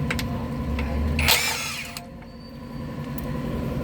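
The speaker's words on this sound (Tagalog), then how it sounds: "Dito sa size 10, pwede na tayo gumamit ng mga ratchet dyan. Ayun ang ratchet, tsaka ayan, tanggalin ko muna" A hand ratchet loosening size 10 transmission pan bolts on a Nissan Navara, heard as a steady mechanical rasp with one louder burst of clicking midway, close and continuous with no talk.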